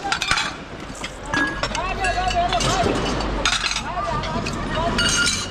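Plates and saucers clinking while being handled during night dumpster diving, with irregular sharp ceramic clinks and rattles close by, under continuous overlapping chatter from several people.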